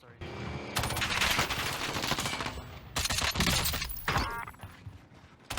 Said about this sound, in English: I take a few shots at the fire guy